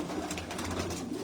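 A pigeon cooing close by at a pigeon fanciers' gathering in Jinnah Garden, Islamabad, a short low murmuring call over a faint steady background, no talk.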